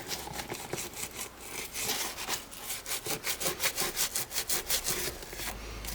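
A brush scrubs back and forth in the cracks of caiman crocodile skin boots during cleaning, a close, rhythmic rasping stroke repeated quickly and steadily with no voices.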